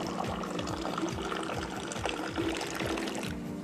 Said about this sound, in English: there is an art form as well to pour in Moroccan tea